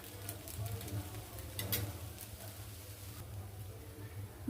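Faint oil sizzle from a thick breakfast pancake frying in a pan, a soft steady hiss with light scraping, heard low and close under quiet background sounds.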